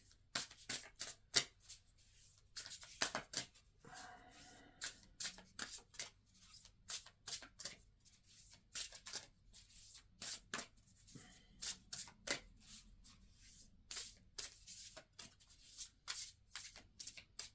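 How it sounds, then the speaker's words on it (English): Oracle cards being shuffled by hand, quiet crisp riffling and flicking bursts repeating in irregular quick runs, close and soft with no talk over them. "2 more shuffles."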